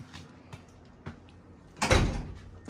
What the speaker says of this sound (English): Let's see if this door is unlocked.